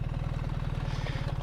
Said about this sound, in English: So it's just revving a little bit there